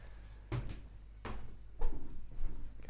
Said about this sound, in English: while you're doing that, I'm going to close the door.